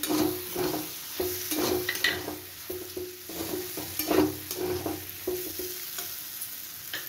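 A spatula stirs spices and chickpeas frying in a pan for ghugni, giving a steady sizzle punctuated by regular scraping strokes at close range.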